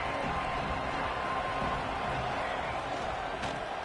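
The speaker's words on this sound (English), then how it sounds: "wow, listen to this crowd noise" Steady, distant roar of a stadium crowd in a college football video game, a dense continuous wash of noise with no distinct cheers or peaks.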